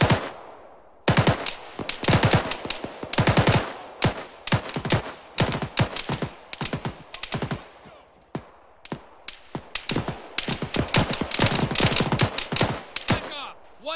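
Machine gun covering fire, long loud bursts of rapid close shots broken by short pauses, continuing steadily throughout with brief shouting between bursts.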